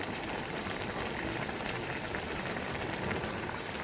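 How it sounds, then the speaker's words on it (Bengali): Onion fritters (peyaju) sizzling in hot oil for a home Ramadan iftar, a steady dense crackle and hiss that runs continuously at close range with no voices over it. "হাবিবা পেঁয়াজু বানাবে ভাজার জন্য দিচ্ছে"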